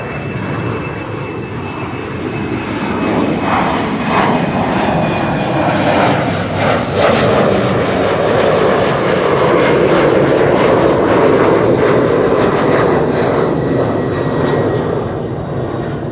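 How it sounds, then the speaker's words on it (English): An Embraer jet departs Amsterdam Schiphol on runway 24, its engine roar loud and continuous throughout, swelling and holding steady at close range with no talking. "And another departure over here. Little Embraer."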